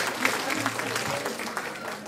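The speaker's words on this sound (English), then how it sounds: "Y'all give them a hand for being here" Guests at a grandpa's 80th birthday party applaud together in a steady round of clapping, close and continuous for a couple of seconds, with voices mixed in.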